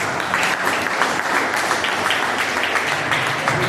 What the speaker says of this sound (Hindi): तो एक बार अपने लिए जोर से तालियां बजाओ।